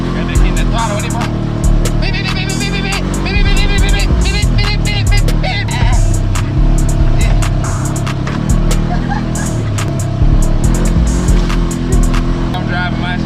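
A Polaris RZR 900 side-by-side drives with its engine droning loud and close, throttle swelling and easing, with rattles and clatter over the terrain and people talking throughout.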